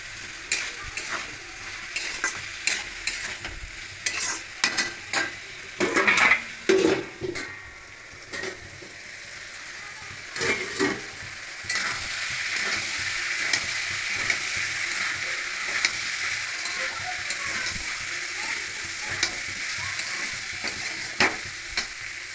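Soybean chunks and potato sizzle steadily in a pan of hot oil, with a spoon scraping and stirring through them in bursts of clinks over continuous frying.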